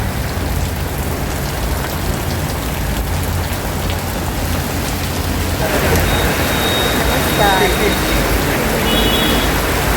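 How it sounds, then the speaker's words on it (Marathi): Heavy rain pours at Dombivli railway station, a loud, steady, dense hiss of downpour that fills the whole stretch without letup. "पाऊस बघा किती पडतोय,"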